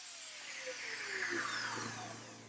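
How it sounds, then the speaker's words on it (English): A router fitted with a keyhole bit cuts into wood, giving a steady, fairly quiet whine with a continuous high-pitched buzz and a faint rising and falling tone over a couple of seconds, with no voices. "With the router, I used the keyhole bit to cut 4 keyholes into the back of the outer pieces"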